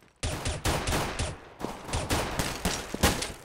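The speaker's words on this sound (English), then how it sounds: "Wasting your ammo there, Happy." Rapid bursts of gunfire from a tactical shooter video game during a B-site push, a loud volley opening after a brief pause, then repeated close shots and rattling bursts continuing without talk.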